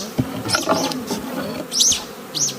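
Honeybees shaken off two comb frames while a hive is reduced for overwintering, buzzing in close bursts with soft knocks and rustling against a steady hum.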